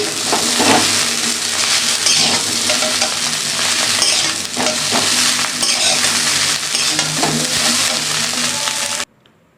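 Chow mein stir-fried in a pan sizzles loudly and constantly, and the noodles are tossed and scraped with rhythmic stirring strokes up close until the sound cuts off abruptly at the end.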